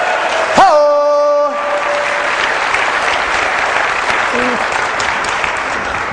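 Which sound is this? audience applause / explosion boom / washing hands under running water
audience applause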